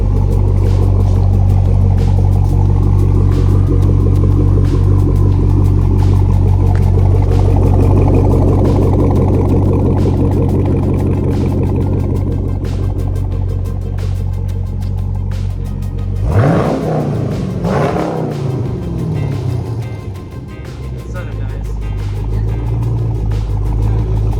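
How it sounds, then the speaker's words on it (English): A loud, deep Chevrolet Camaro exhaust with a muffler delete rumbles steadily, then swells in a sharp rev with a rising roar before settling back to a throaty idle. "Check out the exhaust back here."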